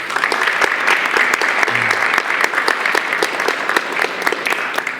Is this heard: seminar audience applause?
yes